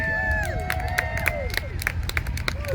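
Crowd applause and cheering at a monster truck show during a family festival weekend in Ipswich, a steady outdoor wash of clapping with whistles and a sustained tone running over it.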